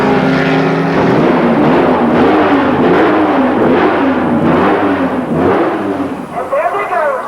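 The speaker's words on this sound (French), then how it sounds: "place maintenant à la course avec ce départ type Le Mans, véritable hommage à l'histoire" Historic race cars at the 12 Hours of Jarama firing up for a Le Mans-style start, a loud chorus of engines revving and rising in pitch, with a voice speaking over them.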